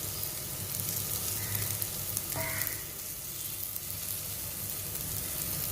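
Tofu, broccoli and mushroom sauté over a low flame in a metal pan, giving a steady, fairly quiet sizzle with a brief scrape of stirring partway through.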